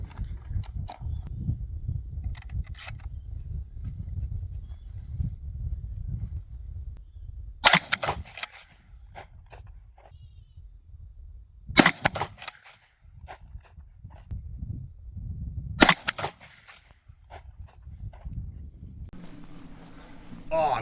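An AXOR Bushpig 12 gauge shotgun fires Winchester Super X 1 ounce slugs outdoors at a range, with three loud sharp blasts spaced several seconds apart over low rumbling handling noise and a bit of talk.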